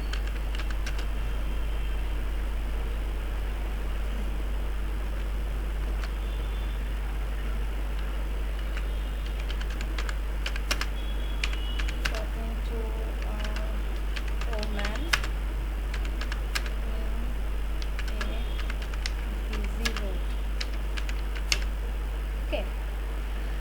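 Someone typing a prompt on a computer keyboard in a text-to-image design tool, scattered bursts of light key clicks over a steady low hum, with a voice talking at times.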